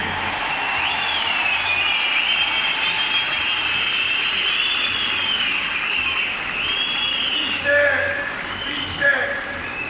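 Crowd at an outdoor CHP political rally in Avcılar claps in a sustained, dense wave of applause, with a loudspeaker voice and scattered shouts carrying over it.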